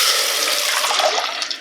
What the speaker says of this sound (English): Then you're gonna take your yogurt mixture that we mixed up.